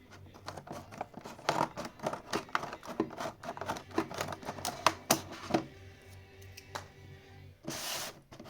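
Close snipping and scratching of scissors cutting through packaging, irregular cuts followed by a rustle of material.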